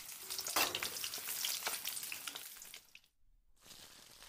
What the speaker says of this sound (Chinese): 文火九煎，香气四溢